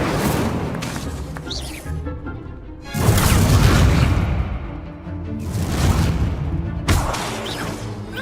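Incendio fire spells cast in the wizarding video game Hogwarts Legacy, heavy booming whooshes and crackling blasts in two or three loud bursts over ongoing game effects.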